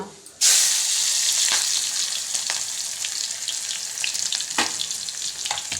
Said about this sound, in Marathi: कांदा परतून